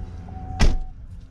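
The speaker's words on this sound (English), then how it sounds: "Close the door." A door is pushed shut once at home, giving a single short, solid thud followed by a brief rattling decay over a quiet room hum.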